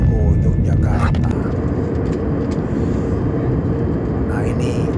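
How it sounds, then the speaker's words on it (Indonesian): Steady, loud, low cabin roar inside a passenger airplane in flight from Batam to Kulon Progo airport in Yogyakarta, continuous throughout, with faint voices beneath. "ini sedang berada di atas pesawat dalam perjalanan menuju Bandara Kulon Progo Yogyakarta"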